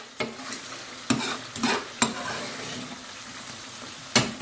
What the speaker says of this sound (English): Again, stir that back into the sauce.